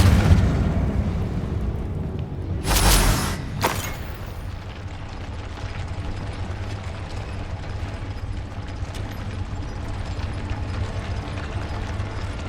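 Confringo blasting spell in Hogwarts Legacy, a sharp explosive burst followed by a second quick pop, standing out over a steady low mechanical drone.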